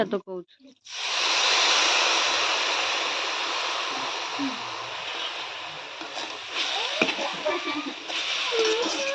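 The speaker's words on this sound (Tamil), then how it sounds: "கொஞ்சமாக தண்ணி தெளித்தாங்க" Water hits a hot pan of Odisha-style flattened rice (aval) upma and gives a sudden loud sizzling hiss that stays strong as it cooks, with someone talking over it.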